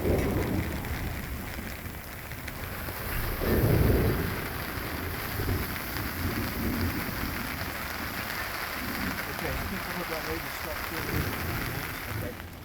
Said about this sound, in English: We were hanging out under the shelter because it was still raining and we wanted to stay dry.